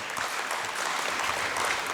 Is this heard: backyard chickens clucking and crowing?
no